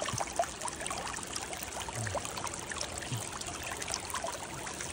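Water flows gently along a stream at a gold-panning spot, a soft, continuous trickle and babble close by with no voices.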